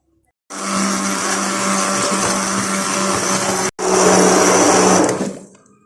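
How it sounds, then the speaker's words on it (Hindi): A blender whirs loudly and steadily for several seconds blending cooked tomatoes for ketchup, briefly cuts out, then roars again before spinning down. "अब मैं इनको ब्लेंड करूंगी"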